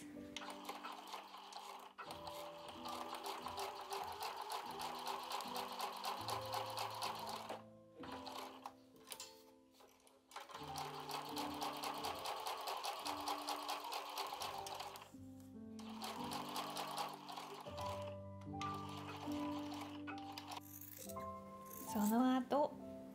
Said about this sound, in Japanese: この2つを合わせてミシンで縫います。